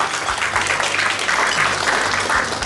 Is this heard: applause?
yes